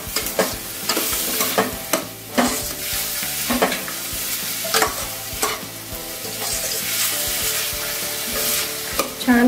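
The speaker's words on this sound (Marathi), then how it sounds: "छान ब्राऊन होईपर्यंत आपण परतून घ्यायचं आहे।" Chopped garlic and grated ginger fry in a pan for dal khichdi, a steady close sizzle broken by repeated sharp scrapes and clinks of a spatula stirring throughout.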